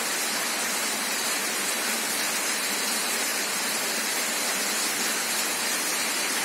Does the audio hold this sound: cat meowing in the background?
no